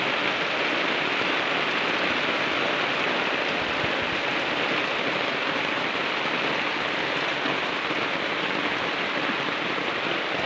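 Heavy rain pours steadily and loudly at night, a dense, continuous roar of water on surfaces with no break, close and unbroken throughout.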